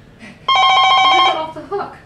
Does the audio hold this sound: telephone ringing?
yes